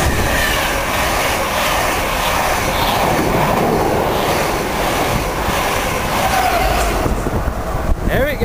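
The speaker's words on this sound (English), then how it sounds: "we got another Norwich bound Mark III set now, about to race through Needham Market." Norwich-bound Mark III passenger train racing through Needham Market station, a loud, sustained roaring rush of rolling stock close by for the whole stretch, fading slightly near the end.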